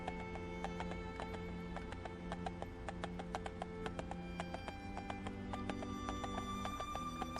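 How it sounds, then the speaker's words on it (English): Horses pull a carriage in an otome isekai role-playing game, their hooves clip-clopping in a steady rhythm with occasional neighs over a constant rolling rumble. Nobody speaks. "I can hear the horses pulling it"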